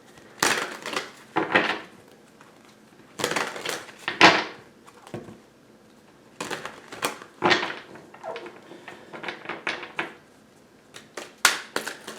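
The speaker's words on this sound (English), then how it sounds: "I'm going to start with my shuffle." Tarot cards are shuffled by hand in irregular bursts of crisp riffling and slapping, close and fairly loud, separated by short quiet gaps.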